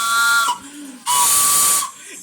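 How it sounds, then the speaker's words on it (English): A loud steam-style train whistle blasts twice, each a sustained shrill tone over hissing, with a brief quieter gap between, amid a New Year fireworks celebration in London. "I've got the whistle on!"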